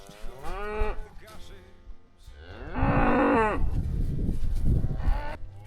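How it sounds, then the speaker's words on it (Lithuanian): Cattle on a farm in Canada moo in several loud, drawn-out calls close by, one long low bellow overlapping another, with no talking. "ir visos karvės yra va čia va"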